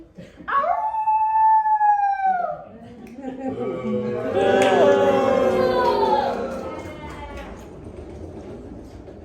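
A wolf howls nearby, a long wavering cry that bends downward, followed by a noisier, overlapping stretch of howling and growling tones that fades out.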